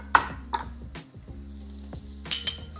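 Shrimp and crushed garlic hit hot oil in a pan, giving a quiet sizzle with a few sharp clinks of utensil against metal at the start and near the end.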